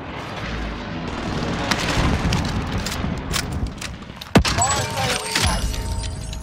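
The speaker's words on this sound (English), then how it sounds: "Toss in a frag!" Frag grenade detonating in Call of Duty Warzone amid busy battle noise: a single sharp, loud blast partway through, followed by ringing debris and clatter, with game voice lines and background gunfire underneath.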